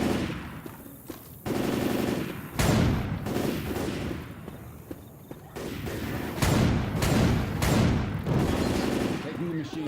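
Bursts of machine gun fire from the zombie shooter Left 4 Dead 2 on a rainy level, rattling loudly in rapid sustained volleys with brief pauses, dense and close.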